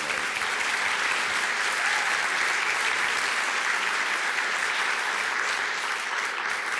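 Sustained applause from a conference audience at a leadership exchange session, a dense, steady wash of clapping hands that holds evenly throughout with no break.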